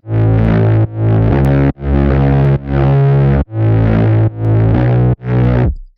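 A heavily distorted, buzzy saw-wave synth bass plays a series of sustained notes in short phrases, each cut off by brief gaps, loud and upfront.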